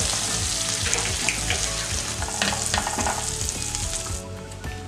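Mumbai-style pav bhaji being mixed in a pan over a low flame, with a loud continuous sizzle and repeated scraping stirs of a spatula, close up and with no talking.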